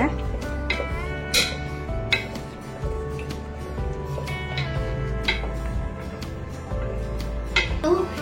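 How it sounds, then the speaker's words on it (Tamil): A spoon scrapes and clinks against a cooking pot as peas are stirred, with steady light taps and rattles under ongoing speech. "இதை ஒரு வாட்டி நல்லா கிளறி விட்டுக்கோங்க"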